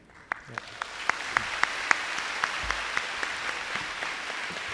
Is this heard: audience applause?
yes